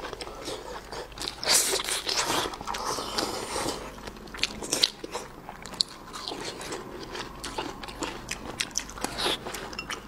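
Someone bites and chews spicy fried chicken up close, producing crisp crunches and wet chewing bursts in an irregular rhythm, with brief pauses between bites and no speech.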